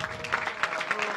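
An audience applauds a jury prize winner at a French conference event, a brief burst of steady, dense clapping from a room of people.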